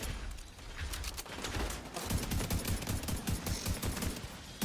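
Robot enemies in The Division 2 video game firing grenades at the player amid heavy gunfire, dense rapid bursts and sharp cracks with a thumping cluster of blasts in the second half, loud and continuous.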